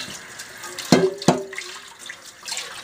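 Water running from a tap during dishwashing at a home sink supplied by a well, a steady wash with two sharp splashing bursts near the middle as dishes pass under the stream.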